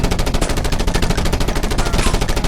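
Sustained automatic gunfire in the video game Just Cause 2, an unbroken rapid burst of loud, evenly spaced shots filling the whole stretch.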